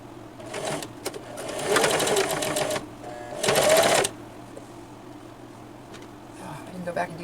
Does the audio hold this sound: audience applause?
no